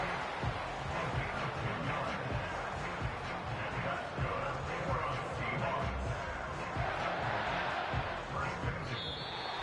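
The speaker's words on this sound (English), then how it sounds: "So several thousand 12th men and women cheering as the Seahawks win at home." Stadium crowd cheering in the football video game Madden 25 after a Seahawks home win, a steady dense roar of thousands of fans with babble and swelling shouts throughout, loud and continuous.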